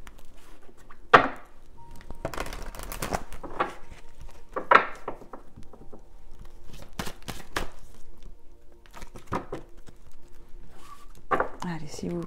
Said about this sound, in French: je vais bien mélanger le jeu